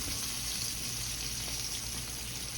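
Pork steaks browning in a pan of hot oil, a steady, broad sizzle and crackle that holds evenly, faint and close, with no voices.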